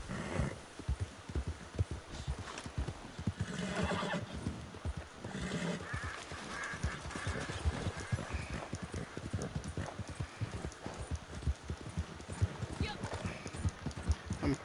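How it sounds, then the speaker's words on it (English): Steady rhythmic hoofbeats of a galloping horse in the video game Red Dead Online pound throughout, with whinnies rising above them and someone talking over the noise. "Stupid animals are spooking my horse."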